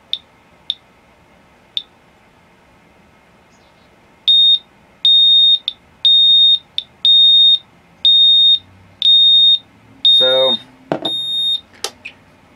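Medcom RadAlert 50 Geiger counter: a few sparse single clicks, then a loud regular series of shrill electronic alarm beeps repeating about twice a second, followed by brief handling noise and a short spoken comment.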